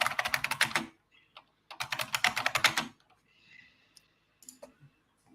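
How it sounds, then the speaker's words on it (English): Fast, loud typing on a computer keyboard in two dense bursts of clattering keystrokes, followed by a few scattered clicks and quieter desk sounds. "Sorry about the keyboard, folks."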